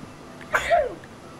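A single sneeze, quick and fairly close, rising sharply and then trailing off over a low background hum.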